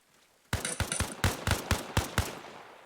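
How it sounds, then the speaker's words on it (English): Gunfire in the video game ARMA Reforger, aimed through a wooden barn wall: a quick burst of about eight sharp, loud shots in rapid, slightly uneven rhythm after a short quiet start, with no talking. "Shoot 4 times through there."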